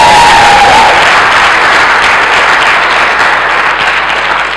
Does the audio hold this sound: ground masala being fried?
no